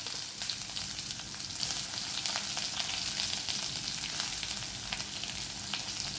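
Sliced onions and curry leaves fry in hot oil for a yam-leaf thoran, a steady, dense crackling sizzle that stays close and even throughout, with no talking.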